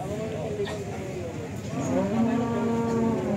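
Cattle, including Simmental and Limousin stock, moo at a busy cattle market; a long low moo rises in the second half over a background of people talking and market bustle.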